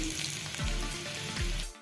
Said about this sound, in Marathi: छान खमंग अशी फोडणी झालेली आहे